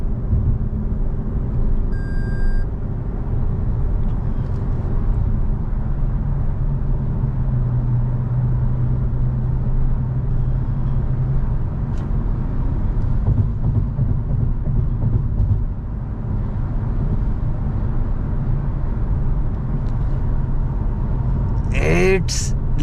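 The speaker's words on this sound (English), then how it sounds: "So let's quickly bring it to 100 kilometers per hour." Toyota Camry Hybrid cruising at 100 km/h, a steady low engine and road drone inside the cabin, continuous and even throughout, with someone talking over it.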